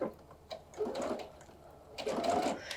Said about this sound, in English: foot down, I start stitching